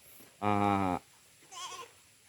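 Pet goats on a goat farm give one loud, sustained bleat lasting about half a second, then a second, fainter and shorter call follows after a pause, with no talking.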